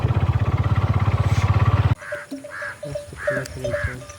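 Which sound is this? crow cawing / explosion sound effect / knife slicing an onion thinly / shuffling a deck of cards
crow cawing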